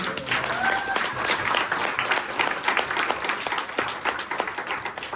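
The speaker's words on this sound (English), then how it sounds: "can we take a minute to have a round of applause for Claire" Wedding guests applaud during a reception speech, a steady wash of many hands clapping at moderate distance, sustained for several seconds with faint voices underneath.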